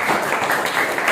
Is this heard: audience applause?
yes